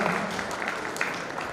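Applause from an audience at a law book launch ceremony, a continuous moderate patter of clapping with a few sharper claps standing out.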